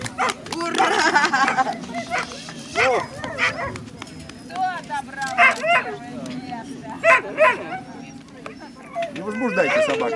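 Whippets and Italian greyhounds at a coursing award ceremony bark and yip in repeated bursts, with some whimpering, close by and fairly loud, over steady talk from people nearby.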